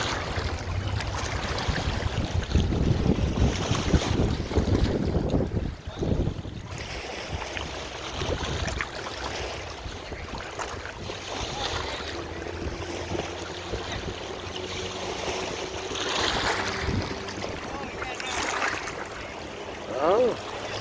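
Boat on the Mississippi River pushing through the current, a steady broad wash of water and wind noise with a low engine drone, loudest early on and continuing evenly throughout.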